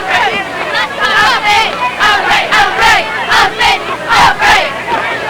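Cheerleaders at a high school football game chant in rhythmic bursts, shouting repeated calls to rouse a quiet crowd, with loud group voices over a faint background murmur.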